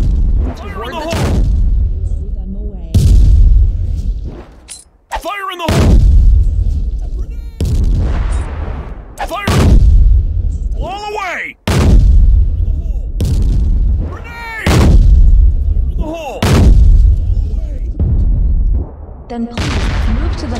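Grenade blasts in the video game Line of Sight, a series of loud booming explosions roughly every two seconds, each with a sharp crack and rumbling tail, with game voice lines mixed in.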